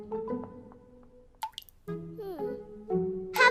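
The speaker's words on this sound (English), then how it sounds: "Have you fixed the dripping tap before" A leaky tap drips in a cartoon bathroom, single plopping drops landing among tonal musical sounds and a voice speaking.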